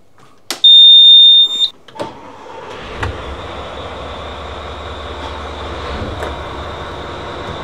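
Yacht engines start with a loud electronic beep and a brief burst of cranking. A steady, low, droning idle follows and holds as the engines warm up, with faint clicks on top.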